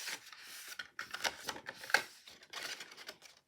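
Stiff scored paper of a shopping bag being creased and folded down along its score lines, giving dry crinkling and rubbing with sharp crackles, close and fairly quiet with no talking.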